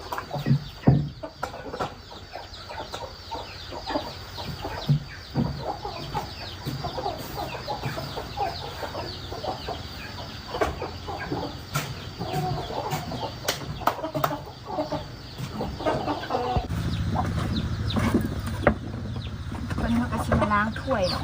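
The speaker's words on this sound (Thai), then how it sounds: "เสียงเป็ดเสียงไก่ก็ฮ้องแห้งๆ" Ducks and chickens call around a rural village house: repeated clucks and squawks come near and far throughout, with steady background noise and a voice talking over parts of it.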